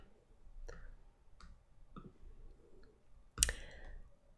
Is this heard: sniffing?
no